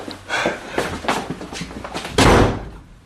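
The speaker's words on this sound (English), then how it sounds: "I went out backwards, slammed the door" An indoor door slams shut with a single loud, heavy bang near the end, after a few softer scuffing movements close by.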